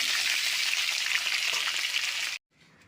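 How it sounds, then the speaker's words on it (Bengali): Potatoes fry in hot oil in a wok, a loud, dense, steady sizzle that cuts off abruptly near the end, leaving only a quiet background. "আমি আলুটাকে লাল লাল করে আমি ভেজে নিয়ে তুলে দিই"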